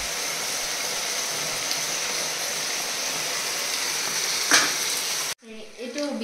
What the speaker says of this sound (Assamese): এতিয়া মই লোকেল চিকেনখিনি দি দিম আৰু অলপ লৰাই অলপ ঢাকি ৰাখি দিম